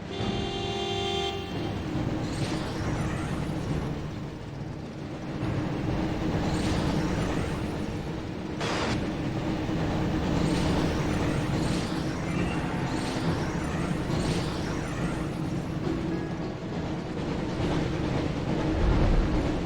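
Train in the Harry Potter and the Chamber of Secrets PS1 video game, a steady rumbling roll of rail travel with a sharp horn toot at the start and a hiss of air brake midway, alone without talk.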